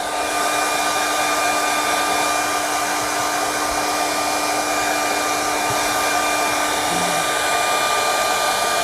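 A hair dryer runs steadily and loudly, blowing over wet paint to dry it. It holds a constant whirring tone from start to finish, close up and alone, with no one talking.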